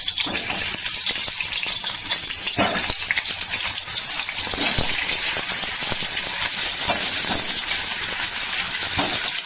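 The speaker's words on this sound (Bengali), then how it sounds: "সিদ্ধ করা আলুগুলোকে ভাজবো" Boiled potatoes for biriyani fry in hot oil with a loud, steady, close sizzling hiss that continues throughout, broken by occasional soft knocks and scrapes in the pan.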